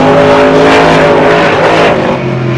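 Gunslinger monster truck, rated at 1,497 horsepower, launches off the line in a runway drag race, its engine roaring loud and close in a sustained high-revving blast that eases slightly at the end.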